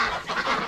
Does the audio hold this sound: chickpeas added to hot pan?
no